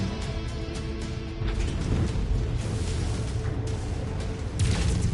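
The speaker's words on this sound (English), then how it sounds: "As you can see, explosions are fun." Explosions and heavy mechanical clanking from the video game Mechwarrior 5, with dense booming bursts and grinding machinery continuing loudly throughout.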